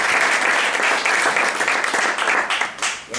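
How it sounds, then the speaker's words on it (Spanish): Steady, dense applause from a crowd, loud throughout and thinning slightly toward the end. "Así que un aplauso para ella."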